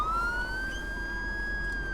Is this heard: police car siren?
yes